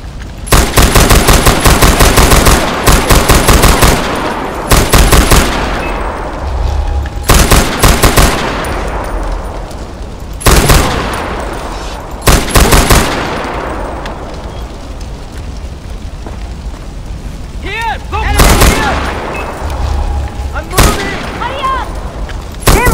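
Loud machine gun fire in Far Cry 4, with long sustained bursts and repeated heavy blasts echoing over about twenty seconds of chaotic combat, close and dominant.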